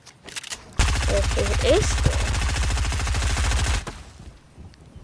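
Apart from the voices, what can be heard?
SMG gunfire in a video game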